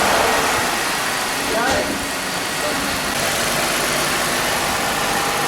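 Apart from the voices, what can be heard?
Jeep Wrangler engine started and idling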